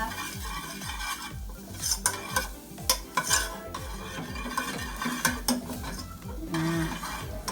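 Shrimp, vegetables and tofu sautéing in a pan, with a steady sizzle under repeated scraping and clinking of a utensil stirring against the metal, close and rhythmic.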